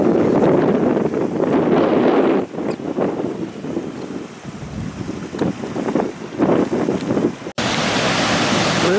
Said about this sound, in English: I found more water. This is Gibbon Falls, still in Yellowstone National Park.